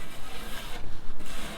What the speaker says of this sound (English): So what you try to do is you try to scrape off as much as you can